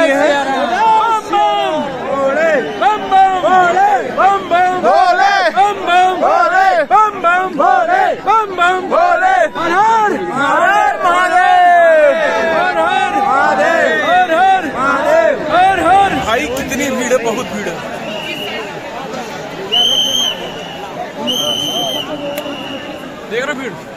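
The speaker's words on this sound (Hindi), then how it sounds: "किसी तरह से तो इस भीड़ में हम लोग घुसे हुए हैं" A large, packed crowd of pilgrims in Ayodhya fills the air with close, dense shouting and many overlapping voices, some rising into chant-like calls, and the babble thins slightly toward the end.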